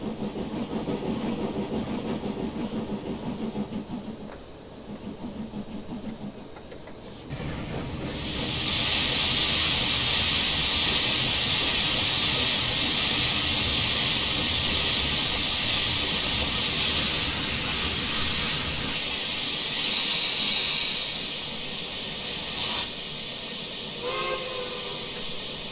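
A steam locomotive in a train simulator game, a Great Northern Brooks 4-8-0 Mastodon, gives low chuffing as it starts, then a loud sustained hiss of venting steam sets in, ending with a brief whistle-like tone.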